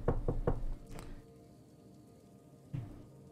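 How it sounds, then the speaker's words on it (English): Knuckles knock on a wooden door as a sound effect for a tabletop role-playing campaign: a quick series of four sharp raps, followed by softer rain ambience and a single dull thud. "Knocking on the door."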